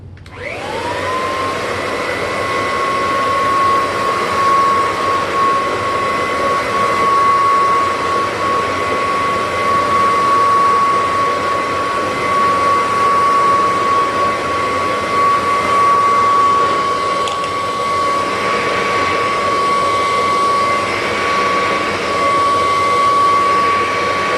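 A Kirby vacuum cleaner fitted with a 2-row brushroll runs over carpet sprinkled with baking soda, a loud, steady motor roar with a high whine holding throughout, with no talk.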